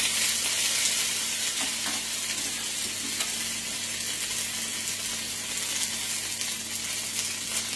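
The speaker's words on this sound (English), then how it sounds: "this will splash and sizzle a little bit" Gnocchi sizzle and crackle steadily in a hot frying pan, a continuous close hiss with small pops throughout.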